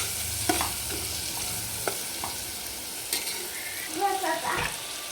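Spices and tomatoes frying in a pan, with a steady close sizzle, scattered stirring scrapes and soft clinks throughout.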